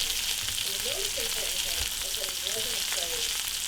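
Salmon fries in a cast iron skillet on a stove, giving a steady, close sizzle that continues without a break under some faint background sounds.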